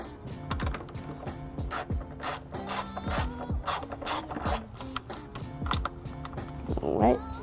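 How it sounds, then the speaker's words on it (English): Socket ratchet on 10mm bolts of a 2016 BMW X1, a steady run of close, rapid metallic pawl clicks that continues throughout, with a brief louder rattle near the end. "Next, I'll need to remove these two 10mm bolts using my socket."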